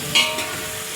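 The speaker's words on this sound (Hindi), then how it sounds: "अब प्याज को अच्छे से हिला के, और जो है इसको मैं अच्छी ब्राउन करूँगी" Chopped onions sizzle and fry in a hot pan as they are stirred and browned for chicken biryani, a brief scrape followed by a steady, close frying hiss.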